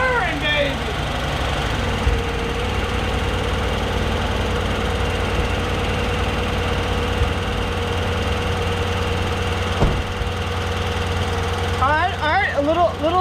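A Ford Ranger truck engine idles steadily just after its first start, with the alternator and coolant lines still off, running with a small tick and knock. The engine hum stays loud and constant while a voice speaks briefly near the start and end.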